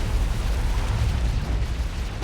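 An orbital strike detonates in Dawn of War 2: Retribution during a 2v2 battle, a loud, sustained low rumbling blast that rolls on steadily for about two seconds before cutting off.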